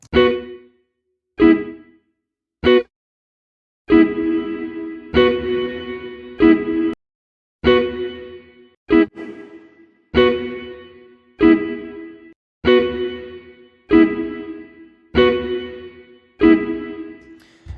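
Short musical notes, probably plucked or struck, pass through a convolution reverb using the IR1 impulse response. The reverb leaves a decaying tail after each note, repeating steadily at a moderate, fairly loud level with no talking.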